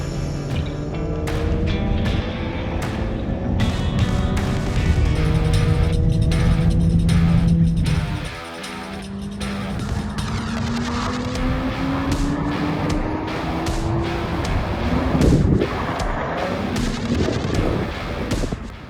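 Synthesized supercar engine note from a Thor sound system in a Tesla Model S Plaid, heard from inside the cabin while driving; loud, steady droning tones rise and fall with acceleration, with a brief dip midway and sharp clicks throughout.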